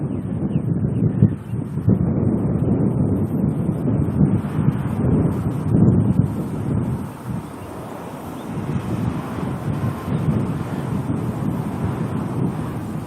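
Gusty wind roars steadily across an outdoor plane spotting location in Auckland, heavy low rumbling buffeting that rises and dips in waves, fairly loud and unbroken, with no talking.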